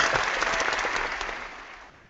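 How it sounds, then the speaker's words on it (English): A canned applause sound effect played in a Google Meet video call, a burst of dense clapping that holds briefly then fades out quickly. "we'll give you the Google Effects claps for you"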